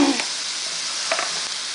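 Parsley sizzles and fries steadily in a hot pan alongside chicken, a continuous crackling hiss with a few brief stirring scrapes, close and moderately loud, with no talking.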